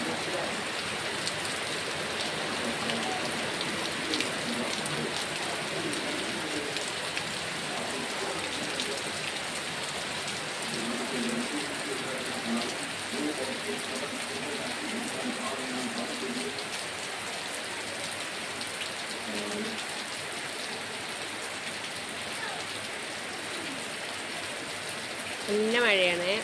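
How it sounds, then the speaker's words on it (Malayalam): Unexpected heavy rain falls at night around 10:15, a continuous close hissing downpour lasting throughout, while a voice talks quietly beneath it. "പ്രതീക്ഷിക്കാതെ വന്ന മഴ കേട്ടോ"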